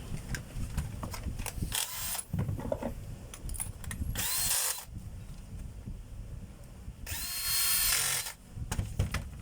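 Power drill or driver screwing the cover back onto a repaired power tool with a replaced armature, carbon brush and cord clamp, in two or three short close whirring bursts separated by quieter handling clicks.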